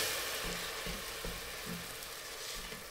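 Miso paste, chili purée and sake sizzle in a pan while being stirred for a vegetarian ramen, a steady close frying hiss with soft periodic scraping strokes.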